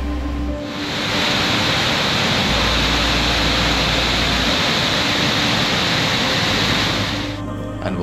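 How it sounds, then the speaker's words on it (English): Epupa Falls waterfall roars as a steady, loud, wide wash of rushing water that holds evenly for about seven seconds before easing off, with no voices. "However, you should watch out for the waterfall."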